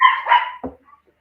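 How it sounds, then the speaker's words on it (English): Little puppy barking indoors, one short, high, close yip followed by a quick softer bark. "we got a dog, a little puppy in the house, so that's what you're hearing"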